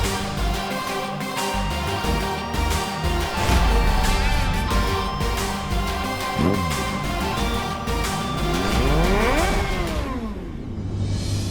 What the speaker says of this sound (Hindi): ये तो दोस्त की बाइक की ही आवाज है।